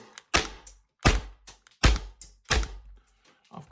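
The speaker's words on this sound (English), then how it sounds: "I'll put a mag in, and then I will fire just behind me" An airsoft gun running on HPA, with an AliExpress regulator, fires four sharp, loud single shots at roughly even intervals of about three quarters of a second, each one a punchy thunk with a short tail.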